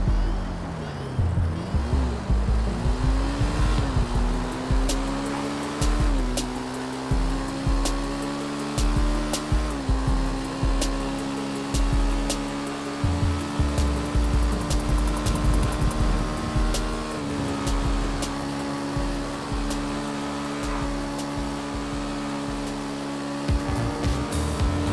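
Unarmored Maibatsu Sanchez motorbike from a GTA game speeding, a steady high revving engine drone that climbs through gear shifts, with clicking ticks over the continuous whine.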